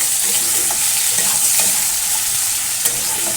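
Bitter gourd stir-fries in a pan with salt and turmeric, a steady close-up sizzle broken by a few light scrapes of the spatula.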